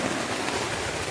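Heavy rain pours down steadily on a first day of work outdoors, a dense, close, unbroken hiss and patter with no pauses.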